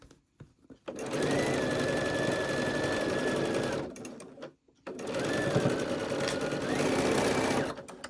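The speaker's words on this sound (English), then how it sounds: "I'm just going to flip this over and stitch down" A sewing machine stitching down a quilt block in two close, steady bursts of rapid mechanical whirring, each lasting about three seconds with a short pause between.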